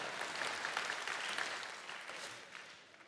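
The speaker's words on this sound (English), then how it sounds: "You want to clap for that, Vince?" Audience at a church gathering applauds in a steady patter of many hands, moderately close, fading out over a few seconds.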